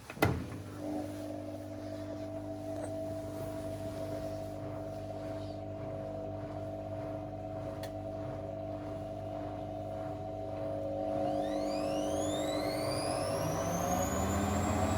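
A vintage Zanussi Nexus FL1081 washing machine runs a spin cycle, a steady loud motor hum with layered tones that climbs in pitch and intensity toward the end as the drum speeds up, with no talk.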